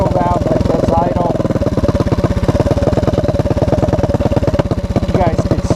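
A Honda ATC200M three-wheeler engine idles close by, a loud, steady single-cylinder putter with an even rapid pulse throughout.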